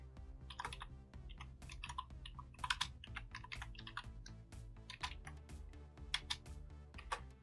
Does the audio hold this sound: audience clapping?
no